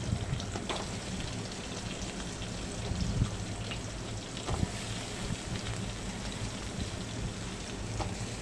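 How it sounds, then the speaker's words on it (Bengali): Potatoes frying in hot oil, coated to turn lightly reddish, give a steady, dense crackle and hiss with a few sharper pops, continuous and fairly close throughout. "হালকা লাল লাল করে আলুগুলো আমি ভাজবো"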